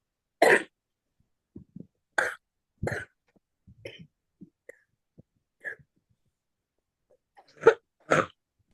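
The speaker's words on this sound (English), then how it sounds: "I have a very bad cough and cold." Several sharp coughs from a person with a bad cold come in short bursts with pauses between, close and fairly loud, along with a few softer throat sounds and clicks in the gaps.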